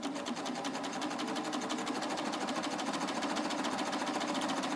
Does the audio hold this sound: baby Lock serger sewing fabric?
yes